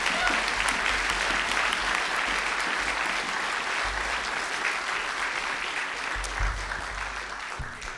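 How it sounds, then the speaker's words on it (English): Audience applause for the backstage crew fills a concert hall at a holiday jazz show, dense steady clapping that continues throughout and slowly thins toward the end. "how about a round of applause for all our"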